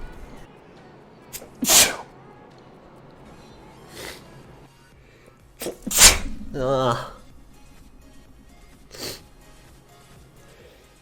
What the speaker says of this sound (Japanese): 言ってたらくしゃみしちゃったけど。